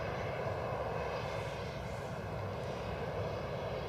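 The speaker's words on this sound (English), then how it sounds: "This Ryanair's off to Dublin." A Ryanair airliner bound for Dublin takes off at Edinburgh Airport, its engines a steady, fairly faint broadband roar from a distance with no voices.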